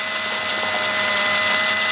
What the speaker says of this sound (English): With the drill bit we give you, then you just simply go ahead and drill both holes.